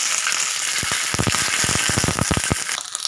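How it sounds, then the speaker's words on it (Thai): Lard sizzles and crackles in a hot wok, with sharp popping bursts over a constant frying hiss. "ตั้งกระทะให้ร้อนนะครับ วันนี้เราจะใช้น้ำมันหมูนะครับในการผัดเส้น"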